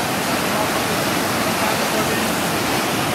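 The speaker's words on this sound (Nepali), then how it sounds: "यो खोला यति बेला एक्सको उर्लिएर आएको छ।" A swollen mountain stream after overnight rain rushes as a dense, loud, unbroken roar of churning water, close and constant, filling the whole scene.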